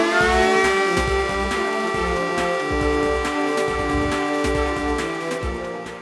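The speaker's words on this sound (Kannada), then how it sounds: "ದಕ್ಷಿಣ ಕನ್ನಡ ಜಿಲ್ಲೆ ಪುತ್ತೂರಿನ ಜನ ಸೈರನ್ ಶಬ್ದ ಕೇಳಲು ಶುರು ಮಾಡಿದ್ದಾರೆ." A civil defense siren in Puttur, Dakshina Kannada, back in service after twenty years of silence, holds a loud, steady, harmonic-rich tone throughout, with dull low thumps recurring underneath.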